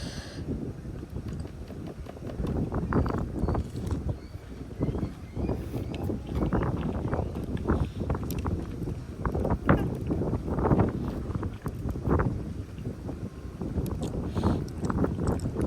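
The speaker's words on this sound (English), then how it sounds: "Very windy." Steady wind buffeting the microphone, a rough continuous rumble with gusty surges throughout.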